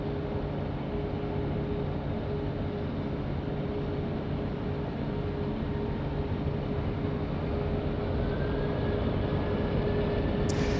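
A Qantas jet takes off from Sydney Airport runway 16 right, its engines giving a steady, loud, broadband roar with a faint rising whine and no talk over it.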